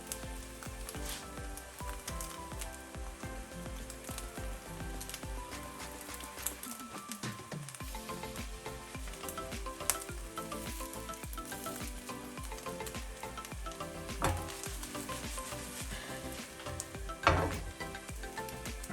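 An egg wrap fries in a pan for a Korean-style omurice, giving a steady, close sizzle with fine crackling that holds throughout, broken by a brief dip and a few louder pops.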